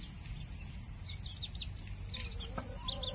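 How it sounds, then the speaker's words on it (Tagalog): Native chickens in a free-range chicken house cluck and chirp in scattered short calls, some near and some farther off, over a steady high electrical hum and low rumbling background noise. "Gusto nila magkaroon ng mga native na manok."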